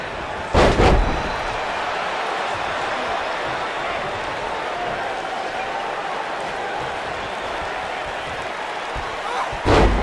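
Two heavy body-slam thuds from a WWE 2K19 wrestling match, one near the start and one at the end, boom over a constant loud arena crowd roar.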